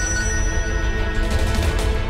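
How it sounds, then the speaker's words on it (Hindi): A telephone rings steadily through a tense Hindi TV drama scene, its tone held at a moderate level for the full length without any voices over it. "ये फोन सुन रहे हो"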